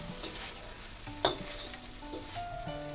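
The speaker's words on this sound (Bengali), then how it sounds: "এখন এটাতে একটু সতে করে নিই" Sautéing in a frying pan while preparing Chinese-style chicken with rosemary: soft continuous sizzle with scraping stirs of a utensil, one sharp clack against the pan partway through, no talking.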